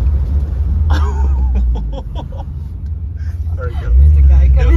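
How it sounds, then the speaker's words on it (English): A 1956 Chevy wagon with poor brakes braking hard, a heavy low engine rumble that drops away mid-stop then surges back loud as the engine revs again, while people inside talk over it. "I want you to stop pretty fast"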